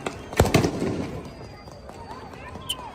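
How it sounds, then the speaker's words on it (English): Flash bang grenades burst during crowd control at a street protest, with two or three sharp loud bangs close together early on, followed by crowd noise and a distant whistle-like tone. "Flash bangs, like you see."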